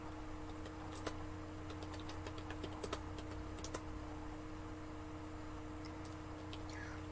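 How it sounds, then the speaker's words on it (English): Typing on a computer keyboard during a live online call, with scattered light key clicks over a steady background hum, fairly quiet and without speech. "I'm typing to him."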